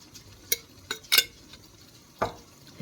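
Stirring spaghetti bolognese sauce in a pot on a stovetop: a few sharp scrapes and clinks of a utensil against the pot, spaced irregularly, over a soft simmering hiss.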